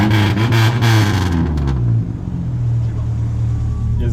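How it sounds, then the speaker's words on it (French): A Renault 4L engine with a straight-through exhaust revs hard and loud for the first couple of seconds, then settles to a steady, close rumble. "C'est du direct, ça sort du moteur"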